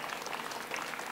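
An audience applauding the food servers at a public talk, a dense, steady patter of many hands clapping together throughout.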